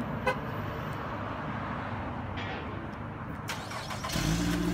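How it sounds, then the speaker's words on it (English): A 2016 Nissan Rogue is started by automatic remote start: a short chirp comes first, then a quiet stretch, then the engine fires up near the end and settles into a low, steady running hum. "Got that automatic start as well. Means you can crank up your vehicle from the convenience of your own home."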